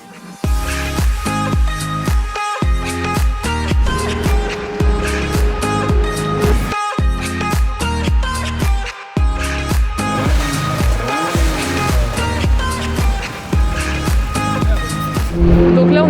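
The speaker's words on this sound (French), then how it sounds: "on est sur le bord du circuit pour regarder la Alpine Cup, donc je vais vous montrer un peu comment ça se passe, ça fait beaucoup de bruit" Alpine Cup race cars roar past trackside at the Nogaro circuit in a steady, loud stream of engine noise, with repeated bursts as cars go by close and pitch sweeps as they pass.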